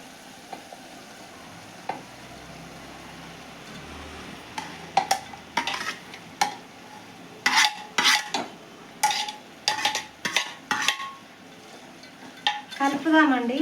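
Prawns go into a frying pan of cooked tomatoes for a prawn curry: a soft steady sizzle underlies a series of close, sharp spoon scrapes and clinks against the pan.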